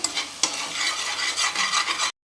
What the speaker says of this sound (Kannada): ಎಣ್ಣೆ ಕಾದಿದೆ ಈಗ ಶುಂಠಿ ಬೆಳ್ಳುಳ್ಳಿ ಪೇಸ್ಟ್ ಹಾಕ್ತೀನಿ